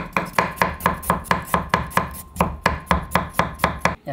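A knife chops carrot into very thin slices on a cutting board for a potato salad, a steady run of about sixteen crisp, evenly spaced cuts close up with no talk.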